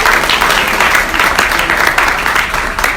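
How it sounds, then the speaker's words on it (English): A lecture audience at the R2R 2020 talk by Dr. Shadee Elmasry applauds loudly and continuously, many hands clapping in a close, full wash of sound. "everyone give a round of applause"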